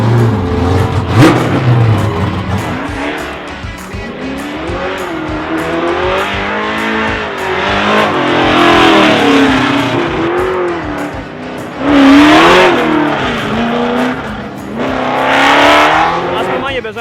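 A NASCAR stock car set up for drifting, running on slick tyres at a track, its engine revving up and down in loud sustained surges with tyre noise, while someone talks over it.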